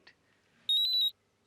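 A phone rings at home with a short burst of six rapid electronic beeps, loud and clear against an otherwise quiet room, stopping abruptly after about half a second.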